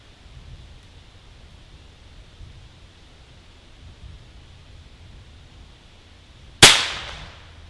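A single sharp shot from an FX Impact M3 airgun cracks out loud and close near the end, its report decaying briefly over quiet outdoor ambience.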